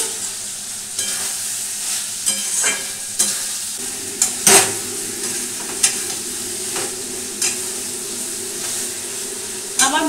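Pointed gourd and potato pieces frying in an oily spice masala, a steady sizzle broken by irregular knocks and scrapes of a spoon stirring the pan, close and fairly loud, no speech.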